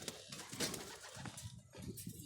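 Pigeons on a rooftop coo softly in a few short murmurs, faint and close, with slight rustling and a brief flutter between calls.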